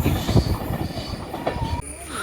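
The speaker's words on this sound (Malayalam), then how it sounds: "അങ്ങനെ ഒരു ട്രെയിൻ വന്നു പോയി" A train rumbles past close by, wheels clattering rhythmically and squealing on the rails before the noise drops away.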